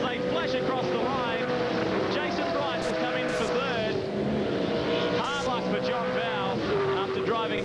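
Two V8 Supercars scream across the finish line at Queensland Raceway in 1999, their engines rising and falling in pitch as they flash past, with a race commentator talking excitedly over the engine noise throughout.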